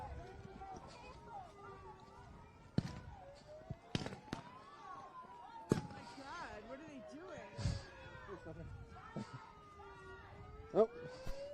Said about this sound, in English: We have munitions fired, flashbangs based on the sound.